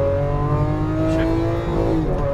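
A Lamborghini Aventador engine revs up after a gear shift on a racing track, a close, loud, steady tonal drone that climbs slightly in pitch.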